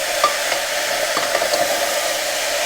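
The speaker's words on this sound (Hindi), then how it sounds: "नमक डालने के बाद इसको थोड़ा चलाऊंगा और इसको मैं मिक्स कर दूंगा" Salted mixed vegetables are stirred in a pan under a continuous hissing sizzle, with faint scraping taps from the utensil scattered throughout.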